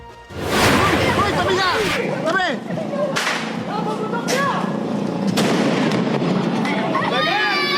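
Firecrackers set off on a street in Tondo, Manila, for Christmas, with repeated sharp bangs and whistling crackles over a loud, constant din and the voices of a crowd.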